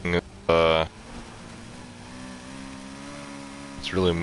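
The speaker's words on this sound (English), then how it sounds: "Hear that engine going to town. Definitely a V8." A V8 car engine in Need for Speed Heat holds a steady, humming drone that rises gently in pitch. Brief bursts of talk come at the start and end.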